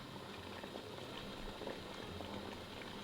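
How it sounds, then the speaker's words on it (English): Water boils over high heat in a steamer used for cooking eggplants, giving a low, continuous bubbling rumble that stays faint and steady throughout, with no voices. "In a steamer over high heat, bring water to a boil."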